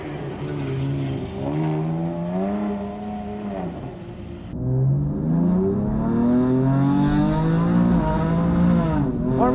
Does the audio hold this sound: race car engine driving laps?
yes